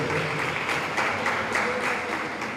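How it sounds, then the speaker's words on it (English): An audience at a national-level pharmacy college conference gives a speaker a round of applause, steady clapping from many hands that holds even and begins to taper at the end. "we need a special applause to the sir"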